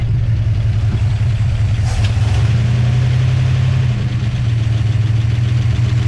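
A 1959 Plymouth's engine idles loud and close, a steady low rumble with a brief rise in revs partway through, uneven as if near stalling.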